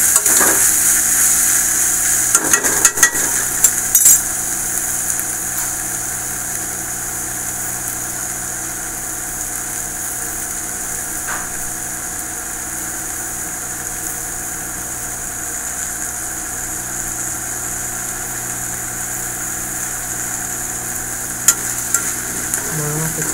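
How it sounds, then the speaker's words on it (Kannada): Cauliflower and tomato frying over a low flame for cauliflower palya, a soft steady sizzle under a constant hum, with a few clattering stirs near the start and end, no voices. "ಈಗ ಫಸ್ಟ್ ಲೋ ಫ್ಲೇಮಲ್ಲಿ ಇಟ್ಬಿಟ್ಟು ಸ್ವಲ್ಪ ಫ್ರೈ ಮಾಡಬೇಕು."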